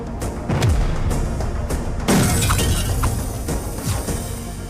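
Glass shattering in a film scene, several sharp crashes and breaking impacts with bright spraying fragments over a low rumbling score, the loudest burst about halfway through.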